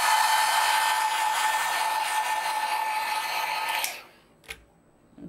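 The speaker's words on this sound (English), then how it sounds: "so I'll dry it with the dryer a little bit" A hair dryer blows loudly and steadily, drying alcohol ink artwork, then switches off, leaving near silence broken by a couple of small clicks.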